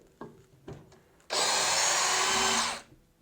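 A DEWALT Powerstack DCD778 hammer drill bores into wood in one loud, steady burst of about one and a half seconds, preceded by a few faint clicks and taps.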